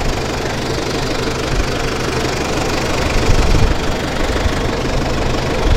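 A farm tractor engine runs steadily with the mower power take-off engaged, a dense, loud, knocking rumble that holds constant throughout, close by and with no talk.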